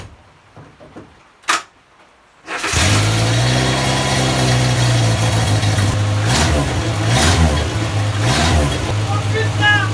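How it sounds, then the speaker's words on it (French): A Renault 4L with a stainless steel exhaust cranks briefly after a couple of clicks, catches, and settles into a loud, steady near idle with a few blips of revving. "Donc là on va démarrer et puis on va pouvoir enfin entendre ce magnifique petit pot d'échappement"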